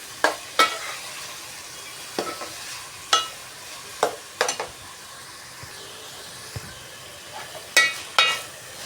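Chopped yellow and red bell peppers frying for aloo capsicum curry, a soft background sizzle punctuated by about a dozen sharp, close spatula scrapes and taps at irregular intervals, no speech.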